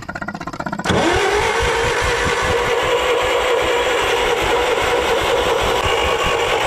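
An old Bobcat skid steer cranks with a rapid, rhythmic starter churn, then fires up into a loud, steady running engine that keeps going.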